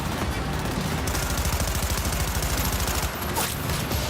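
Rapid, steady bursts of submachine gun fire in the video game Cyberpunk 2077, loud and continuous for several seconds with no pauses.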